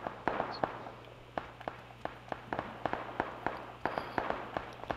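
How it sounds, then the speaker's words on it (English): Rapid PUBG gunfire crackles in a steady run of sharp, evenly spaced pops, moderately distant and fairly faint, with a low hum underneath. "I hear all this shooting, I don't see shit."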